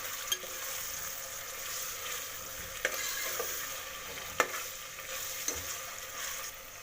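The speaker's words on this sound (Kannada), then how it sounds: "ಶುಂಠಿ ಬೆಳ್ಳುಳ್ಳಿ ಸ್ಮೆಲ್ಲ ಹೋಗಬೇಕು, ಅದಕ್ಕೆ ಎಣ್ಣೆಲಿ ಫ್ರೈ ಮಾಡ್ಕೋತೀನಿ" Ginger-garlic paste and onion frying in oil in a pan for veg pulao, a steady close sizzle with a few sharp clicks of a spoon stirring now and then, no voices.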